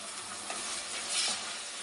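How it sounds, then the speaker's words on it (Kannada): Spices and turmeric frying in a pan for drumstick dal sambar, giving a steady close sizzle and hiss with a brief louder flare near the end. "ಇದೆಲ್ಲ ಚೆನ್ನಾಗಿ ಫ್ರೈ ಆಗಬೇಕು."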